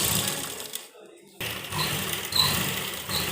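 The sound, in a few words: sewing machine stitching fabric for piping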